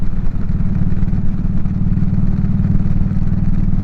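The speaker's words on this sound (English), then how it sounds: "Good to hear the bike going." A motorcycle engine runs steadily outdoors in cold weather, a loud, close, even putter with a rapid regular pulse and no talk.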